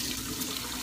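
Lukewarm water runs steadily from a tap while a face is rinsed of cleanser, a continuous close, moderate wash of sound with no talking.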